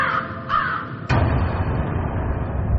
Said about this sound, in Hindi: दिन में कौवों का काव काव करना समझ में आता है।